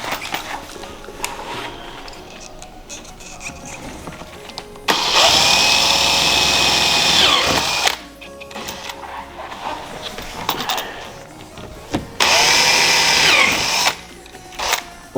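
A power drill bores holes in a Hyundai i30N body to fit a splitter kit, with two loud sustained whirring bursts of about three seconds each separated by quieter handling noises.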